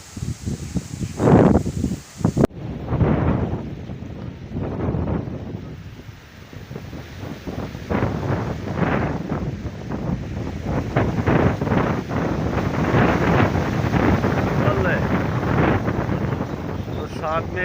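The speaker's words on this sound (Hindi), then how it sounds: "तेज़ हवा चल रही है" Strong gusty wind roars across a rooftop and through nearby trees, a steady broadband rush with rustling swells, heavy microphone buffeting and someone talking over it throughout.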